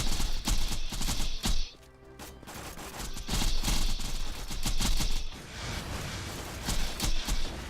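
Dense, continuous rapid gunfire from Maya's gun in Borderlands 2, loud and near, with a brief pause before the shooting resumes in sustained volleys.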